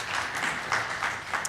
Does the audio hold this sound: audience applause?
yes